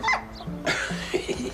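A nearby dog gives a few short yips and whimpering whines in quick succession.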